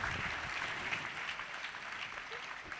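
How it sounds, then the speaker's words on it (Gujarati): Steady applause from an audience at a youth retreat session honouring a guest, a dense continuous patter of many hands holding even across the clip with no voices on top. "એકવાર જોરદાર તાળીઓથી આપણે જયભાઈને અભિવાદન કરીએ."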